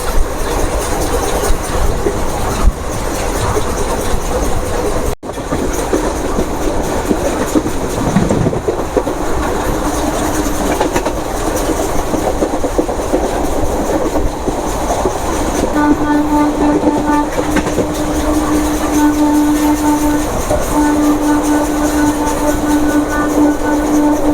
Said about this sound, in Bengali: এই ট্রেন নলহাটি পার হওয়ার পর থেকে তার নির্দিষ্ট গতিতে চলছে